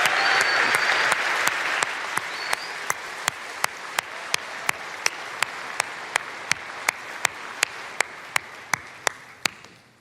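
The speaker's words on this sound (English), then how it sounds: "How about a huge round of applause for our friends at Cirque?" Sustained audience applause at a tech conference keynote, a broad steady wash of clapping that slowly tapers, punctuated by a regular series of sharp, loud beats struck about every half second.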